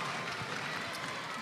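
Crowd applauding a netball goal at a Barbados v St Maarten World Cup qualifier, a steady wash of clapping and cheering that holds at full level throughout the short burst.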